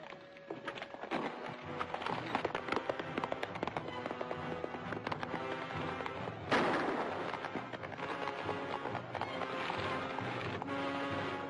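Gunshots ring out in a 1940 western shootout over an Army payroll, with sharp cracks and reports over galloping hooves and a music score, one heavier burst standing out midway, fairly faint overall.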